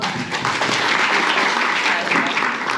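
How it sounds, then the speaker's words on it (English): Audience applause at an Independence Day of India celebration, a steady dense clapping from a crowd that fills the whole stretch at even loudness. "Can we put a round of applause?"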